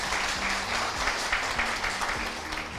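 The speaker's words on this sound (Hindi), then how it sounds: "उसके लिए एक जोरदार तालियां हो सकता है।" Audience applause at an Indian talk, a dense burst of clapping filling the whole stretch at a steady, fairly loud level.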